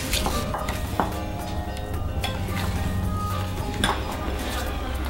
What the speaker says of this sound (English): I'm just going to slowly add in 140 grams of white caster sugar. And just beat it in a little bit at a time.